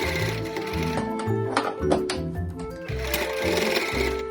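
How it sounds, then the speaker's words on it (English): A sewing machine on straight stitch sews elastic under the folds of a fabric face covering, its rapid mechanical chatter running steadily in close bursts with brief pauses between runs. "So I slide it in underneath the folds, put my machine back to straight stitch."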